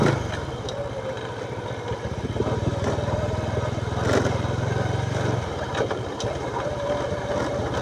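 A small motorcycle engine idles and runs steadily at close range, a low throbbing drone that holds for several seconds before shifting slightly.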